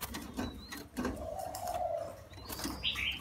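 Young, underfed spotted doves that are losing feathers give soft, low cooing calls, close by, alongside faint rustling and a few higher chirps, with no talking.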